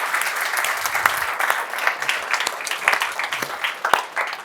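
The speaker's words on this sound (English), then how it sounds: "Give yourselves a round of applause there" A room of developers at a tech talk claps for themselves in steady, moderately loud applause with a few sharper individual claps standing out.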